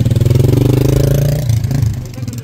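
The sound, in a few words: motorcycles idling and stopping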